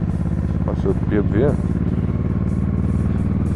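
A BMW motorcycle passes on a busy street in Beijing, its engine note swelling briefly and then fading beneath steady traffic rumble, while someone speaks over the noise.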